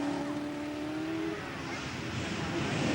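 A hybrid circuit racing car at a 1985 Ashley Forest rallysprint, its engine droning loud and sustained in fifth gear on a downhill stretch, a pitch sweep fading into steady roaring wash.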